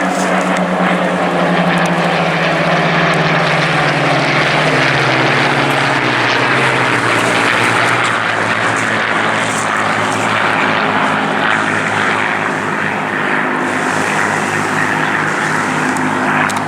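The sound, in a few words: Spitfire aircraft engines flying past at an airshow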